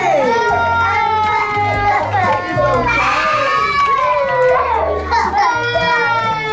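Children in a school classroom scream and shriek loudly and continuously, many high voices overlapping in a chaotic din, with shouting and crying-like wails throughout.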